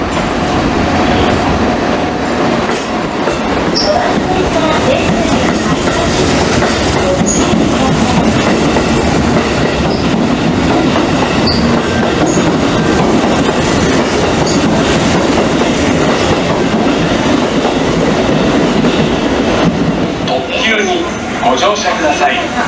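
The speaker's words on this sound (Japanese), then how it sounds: "5番線から電車が発車します。" A Hanshin electric train pulls away from platform 5 at Amagasaki station, a steady loud rumble of wheels and motors with faint clatter, while platform announcements play over it.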